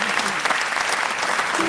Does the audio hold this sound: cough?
no